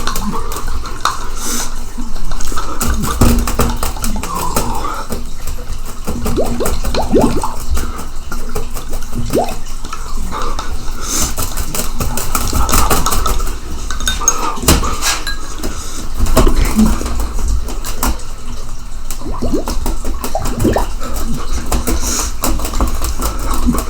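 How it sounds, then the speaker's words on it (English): A spoon stirring liquid in a glass for an egg float test, steady clinking and swirling scrapes running throughout at close range, with no talk. "So now we stir again."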